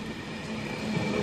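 A Class 150 diesel train pulls into Wigan North Western station, heard as a brief, moderate rumble of rolling wheels and engine with a low hum, no voices.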